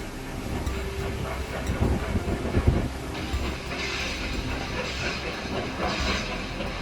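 Train rolling along a mountain railway track, a continuous rumbling hiss with low clattering and a few heavier knocks midway, fairly close and steady throughout, with no speech.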